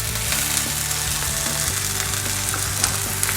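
Cauliflower sizzles and fries in oil in a pan, a steady close hiss and crackle running throughout with no voices.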